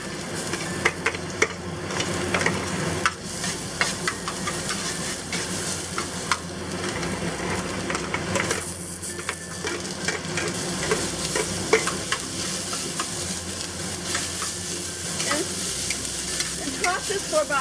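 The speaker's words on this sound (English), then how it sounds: "And we'll stir-fry the ginger and onion." Ginger and onion stir-fried in hot oil in a pan over medium-high heat for a Sichuan-style chicken dish, giving a steady close sizzle with scraping, stirring clatter throughout and no talking.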